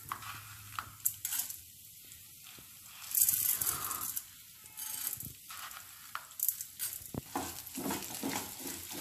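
Urad dal and coriander seeds dry-roasting in a pan while being stirred, giving a steady scraping, rattling texture with soft sizzle, close and continuous without talk.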